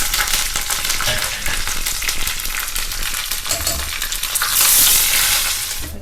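Mustard seeds and dried red chillies fry in hot oil, a dense close crackling sizzle with scattered pops that swells slightly toward the end, heard alone.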